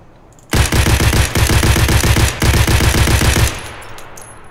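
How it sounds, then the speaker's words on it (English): SKS rifle in Escape from Tarkov fired in rapid semi-automatic bursts, three loud close volleys of evenly spaced shots with brief pauses between, ending in a fading tail. "we're gonna just check out the fire rate on the SKS really quick"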